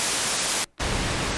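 Steady broadband hiss of white noise from the noise source of a Minimoog synthesizer under restoration, loud and continuous with a brief dropout partway through.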